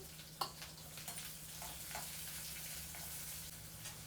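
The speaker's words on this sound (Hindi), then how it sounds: "तेल गरम हो गया, जीरा डाल दिया मैंने इसमें।" Cumin seeds sizzle quietly in hot oil in a home kitchen, a faint continuous crackle with a low hum underneath and one brief clink near the start.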